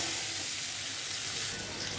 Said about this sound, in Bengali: বেগুন কষানো হয়ে গেছে, এবার আমি একটু জল দিয়ে দেবো।